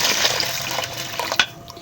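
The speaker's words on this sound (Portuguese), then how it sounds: "Vou colocar agora um pouco de água." Water poured from a container into a pot already holding milk for rice pudding, a steady close splashing fill that runs for about two seconds with a brief louder gush near the end.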